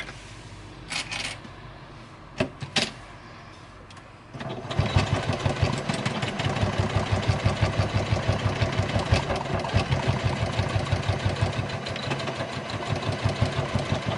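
A sewing machine stitches across a small fabric makeup bag, starting after a few soft taps and then running in a steady, fast mechanical rhythm, close and moderately loud, until the end.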